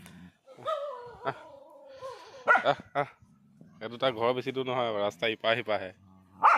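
Dogs bark in short bursts, mixed in with excited talking from several people nearby.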